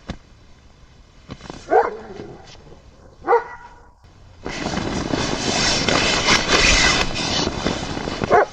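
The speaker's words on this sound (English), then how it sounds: "Kushum suddenly starts barking again" Kushum the dog barks in a forest at night, a couple of sharp, separate outbursts followed by a sustained loud, dense roar of rushing noise.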